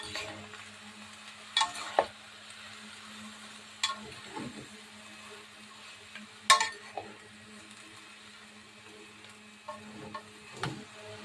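Cabbage and noodles being stirred in a frying pan while cooking pancit sotanghon guisado, with scattered utensil scrapes and clinks over a faint steady sizzle, fairly quiet and close with no talking.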